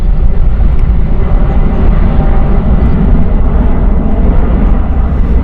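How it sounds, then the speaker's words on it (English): A jet departing on the Geneva flight at Gatwick Airport, a loud, steady broadband roar with heavy low rumble that holds throughout without a break. "Right, Geneva flight next going out."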